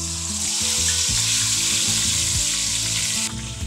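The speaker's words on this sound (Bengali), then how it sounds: "চলো চিকেন ভাজা" Marinated chicken pieces fry in hot oil for a spiced Murgh Musallam, a loud steady sizzle with occasional stirring scrapes and no voices.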